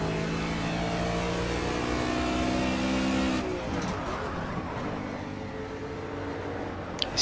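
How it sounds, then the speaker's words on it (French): A simulated race car engine from the Project CARS game, driven in a GT Touring session at Watkins Glen while the car slides around. The engine drones loud and steady with shifting harmonics, then drops to a lower, rougher tone partway through. "on entend la voiture qui en glisse de partout"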